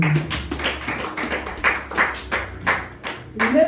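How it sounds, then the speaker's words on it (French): A church congregation claps together during a French-language service, giving a steady, rhythmic beat of close, fairly loud applause. Faint murmured voices sit underneath. "Acclamons très fort pour la parole."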